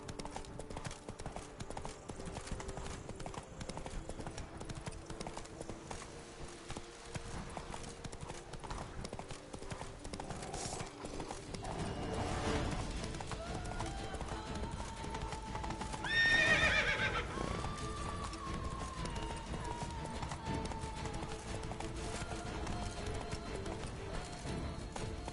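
A horse gallops with rapid, continuous hoofbeats and lets out a loud whinny partway through, in a video game.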